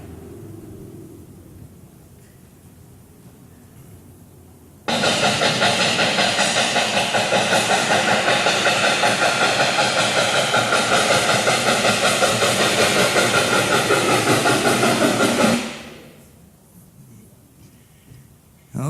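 Steam train engine sound effect, a loud steady chugging hiss that bursts in abruptly and runs for about ten seconds before cutting off, with quiet room tone before and after.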